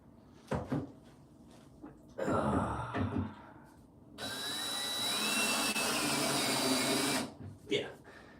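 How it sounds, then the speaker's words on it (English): Power drill driving screws into a bookshelf during assembly: a short whir, then a sustained loud motor whine for about three seconds that winds down, with brief speech before and after. "I think that's drilled in as far as it's going to go."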